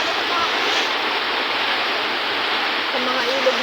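A flooded river in San Mateo, Rizal rushes loudly and steadily as a dense, roaring wash of water, close and unbroken throughout.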